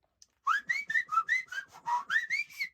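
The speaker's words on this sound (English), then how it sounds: "Now I tried whistling" A person whistles a quick run of about a dozen short rising and falling notes, clear and close, with no talking.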